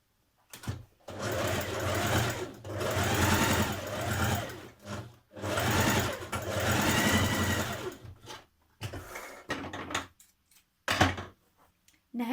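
A sewing machine stitches the underarm seam of a dress sleeve in several close bursts of rapid whirring, separated by short pauses and a few brief stop-start runs near the end.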